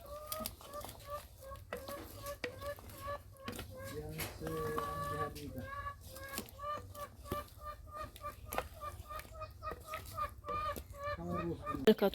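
Chickens cluck repeatedly nearby in an irregular, busy chatter, with a few louder squawks toward the end.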